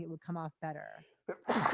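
A single sneeze bursts out right after a stretch of conversational speech, loud and close during a casual live movie-review chat.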